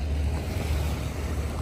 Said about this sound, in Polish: A myślałem, że płyniemy tajskimi łódkami, a okazało się, że jednak mamy speedboata